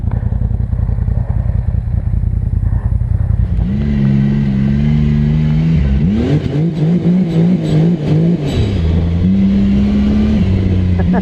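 A Polaris RZR XP Pro turbo side-by-side engine revs loud and close, its pitch climbing and wavering through repeated throttle blips over steady mechanical clatter, with no talk.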